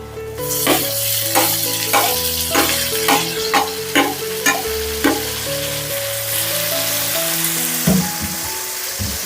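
Chopped tomato frying in a hot pan for a tomato dal, a loud continuous sizzle with a steady series of stirring scrapes and a clatter near the end, close and with no talking.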